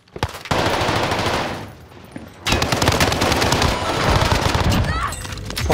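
Automatic rifle fire in Call of Duty Warzone Pacific, long loud bursts of rapid shots from an AK47, a brief pause, then sustained firing again with a player talking over it.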